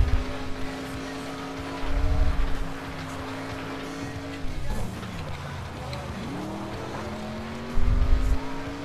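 Street-class cars race laps in the video game FlatOut 2, a loud engine drone rising and falling through gear changes, with bursts of tire and collision noise around the middle and end.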